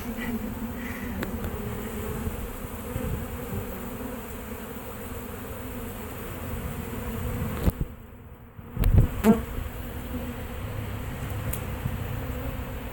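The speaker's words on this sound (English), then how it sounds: "all these bees hanging out in the trees like this" A honeybee swarm buzzes steadily around a boat hull and nearby trees, a dense continuous drone that holds for the whole stretch and is broken only briefly by a short rustle.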